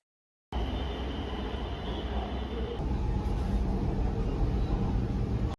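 Ride aboard a metro train, a steady roaring rumble of wheels and motors filling the cabin, constant and loud from start to finish with no talk.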